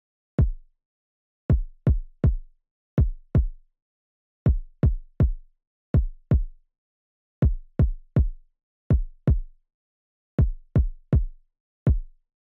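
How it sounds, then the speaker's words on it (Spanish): A deep electronic kick drum in a German-style beat thumps alone in an uneven repeating pattern, short punchy hits in groups of two and three with silent gaps. "Así que este es el pattern del kick."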